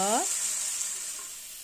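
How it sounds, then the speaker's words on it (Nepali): Grated mango hits hot oil seasoned with turmeric for a sweet-sour mango pickle, setting off a bright, steady sizzle that holds for a moment with a faint voice at the start. "अब अघि कोरेको आँप राख्नुपर्छ तेलमा।"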